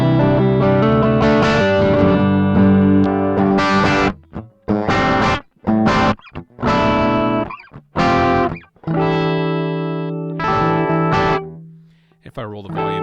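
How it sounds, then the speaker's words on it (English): Electric guitar played through a Kemper profile of a 1968 Fender Champ amp, with reverb off, ringing out in loud strummed chords, first a long sustained chord and then a series of short choppy stabs and pauses. "I'll play a real chord."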